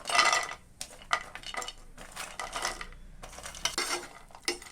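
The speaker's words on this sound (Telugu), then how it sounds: "ఇందులో మనం కట్ చేసుకున్న ఖర్జూరం ముక్కలను అందులో వేసి వేయించుకోవాలి." Chopped dry dates fry in ghee in a pan, heard as clattering spatula strikes and scrapes against the metal in short bursts with gaps, close and fairly loud, over only a faint sizzle.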